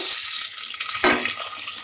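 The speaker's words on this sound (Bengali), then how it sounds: "একটু পানি দিব" Water is poured into a cooking pot holding onions and garlic, a close bright splash and hiss that swells with a sharp burst midway before settling into a steady sizzle.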